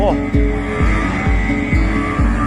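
A small engine on a mini dirt bike ridden in a zigzag revs loud and close in repeated rising and falling surges about twice a second, with voices mixed underneath.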